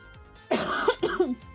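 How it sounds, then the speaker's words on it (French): Two rough coughs in quick succession, close to the microphone, the second a shorter, choppier burst. "je vous ai toussé dans vos petites oreilles"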